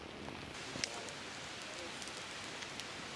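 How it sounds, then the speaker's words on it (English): Steady rain falls at a backcountry campsite at Slough Creek in Yellowstone National Park, a dense, even hiss of drops with a few brighter close taps, continuous and alone. "The rain wasn't stopping"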